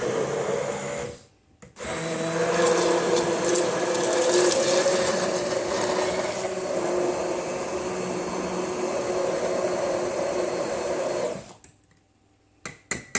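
A kitchen blender whirs steadily for about ten seconds as it blends tomatoes to separate the seeds, starting and stopping abruptly with a loud, dense mechanical roar and no talking.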